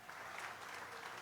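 A church congregation claps in brief, fairly faint applause during a worship service, a short spread of many hands with no one speaking.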